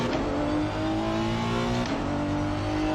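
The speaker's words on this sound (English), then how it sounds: "The car does make noise, yet it's more like a fuel to sound converter" Honda NSX 2018 race car engine in Assetto Corsa Competizione at Spa, a loud, steady droning hum with layered harmonics and a brief shift in pitch near the end, heard alone up close.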